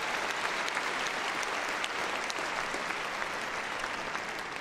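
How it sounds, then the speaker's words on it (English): Spectators at a Crufts gundog display applaud at length, a dense and sustained patter of many hands echoing through a large arena and easing off only slightly toward the end. "Give him a big round of applause, guys."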